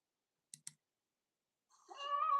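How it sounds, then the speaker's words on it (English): A black cat makes a couple of quick close clicking sounds, then after a pause a drawn-out, rising meow-like vocal cry that grows louder toward the end, with no talk. "He's just a black cat"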